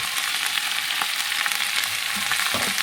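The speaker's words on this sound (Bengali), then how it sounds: "এবার আমি এটাকে ভেজে নেবো খুব সুন্দর করে, হালকা হালকা করে।" Potato pieces seasoned with salt and turmeric fry in a pan over a low gas flame, giving a dense, steady sizzle and crackle with a few faint stirring taps. No voices.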